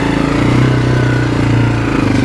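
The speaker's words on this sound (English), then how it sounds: "I like the feel of this bike for one-handed driving" A 2001 Kawasaki Lakota motorcycle being ridden, its engine running loud and close with a steady throbbing drone and a slight shift in pitch midway, no voices.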